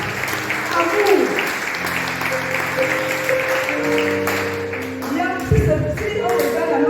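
A church congregation bursts into applause during a sermon, a dense wash of clapping from many hands mixed with voices and a sustained organ-like tone, loud and filling the room.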